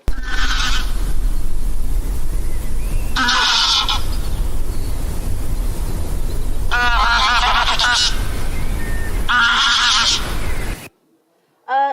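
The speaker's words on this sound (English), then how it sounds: "So that was the sound of the grey lag goose." Greylag geese honk in several loud, harsh bursts at close range, four separate calling bouts over a steady low background, ending in a brief silence.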